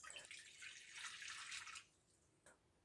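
Lukewarm water, 400 millilitres for a quick onion bread dough, poured steadily for about two seconds with a splashing hiss, then a faint drip afterward, no talking.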